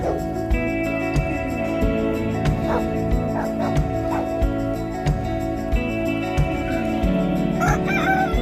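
Bantam roosters crow repeatedly in a noisy coop alongside Silkie and Polish chickens, several loud nearby calls overlapping amid clucking and sharp knocks.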